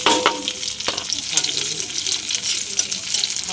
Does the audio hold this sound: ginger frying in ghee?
yes